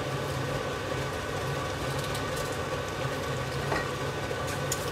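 Meat sizzling loudly in a Dutch oven for a Catalan stew, a dense continuous frying hiss that stays even and close throughout with no talk.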